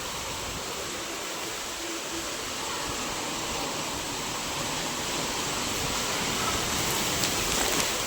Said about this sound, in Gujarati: ફૂલ વરસાદ આવે છે, ફૂલ.